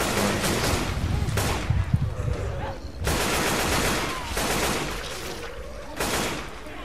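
Gunfire in the Left 4 Dead 2 video game, aimed at a gas tank, comes as sustained bursts of automatic shooting broken by short pauses, with voices talking faintly under it.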